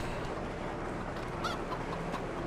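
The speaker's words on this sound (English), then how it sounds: "these are mature chickens that I got" Chickens clucking on a farm in the video game Court Farm Roleplay, a steady dense layer of fowl calls over constant ambient noise with a few brighter squawks standing out.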